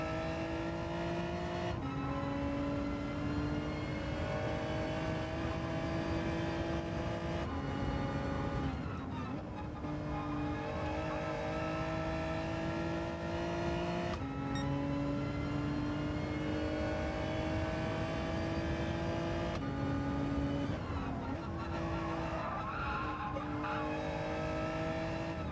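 Engines of race cars in Gran Turismo 7, including a Genesis and an Elantra, drone and rise through repeated gear changes, with tire squeal and skids breaking in over the constant loud roar and no talking.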